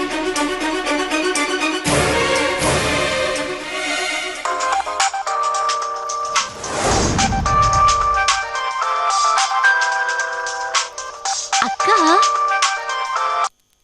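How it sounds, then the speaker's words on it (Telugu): A phone ringtone plays as a call goes out to a sister in a Telugu TV serial scene, a steady looping electronic melody that stays loud throughout, with music layered over it. "ముందు మీ చెల్లెలకు ఫోన్ చేయి."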